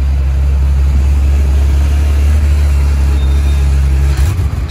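A Ferrari 812 GTS pulls away on a Monaco street, its engine a loud, steady low drone close by that surges briefly near the end as it drives off.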